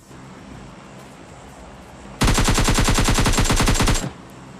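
Sustained automatic gunfire from PUBG Lite, a fast rapid burst lasting under two seconds that erupts loudly out of quiet background ambience and then cuts off abruptly.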